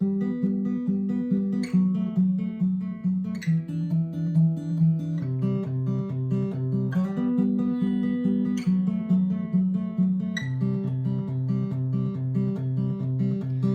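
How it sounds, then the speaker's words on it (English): A steady fingerpicked acoustic guitar pattern, bass notes alternating with higher plucked strings in an even rolling rhythm, played alone and close. "the first part we're gonna learn is a finger picking pattern"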